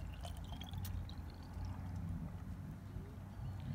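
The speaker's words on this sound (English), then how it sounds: "We brought out a pitcher of water and she's just going to fill the bottle up to the top." Water from a pitcher pours steadily into a bottle outdoors during tie-dye preparation, a continuous gurgling rush that is fairly close and unbroken, with no talking.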